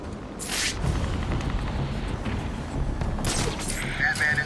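Gunfire aimed at Batman in the video game Batman Arkham City, heard as a steady rattle of shots with bursts and impacts, mixed with game sounds and voices throughout.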